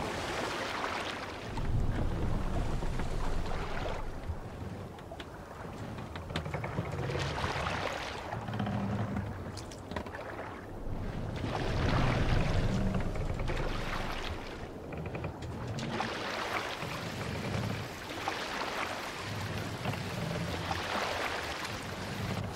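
A sailing ship moves under wind in the game Assassin's Creed Valhalla, with a steady, full rush of wind and water that swells and eases in broad waves, continuous and fairly loud, with no voices.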